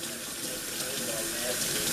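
Tap water runs steadily into a kitchen sink while lemon cucumbers are rinsed under the stream, a continuous close splashing hiss with no talking.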